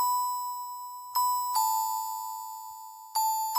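A bright bell tone in a beat, sustained near 1 kHz with rich overtones, struck again at about 1.2, 1.6 and 3.2 seconds, loud and alone with no voices.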